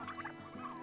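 Bourbon Red turkeys gobble and call in a short burst, a cluster of warbling fowl voices close by with a steady low background hum, no talking.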